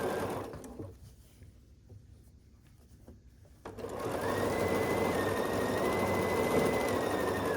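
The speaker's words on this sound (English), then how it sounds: "I'm going to put the chain block on top of the star block, and we'll sew here with a 1/4 inch seam allowance" A sewing machine stitches quilt blocks together with a 1/4 inch seam, first a quiet pause with faint handling, then the motor starts and runs in a steady, close, continuous whir to the end.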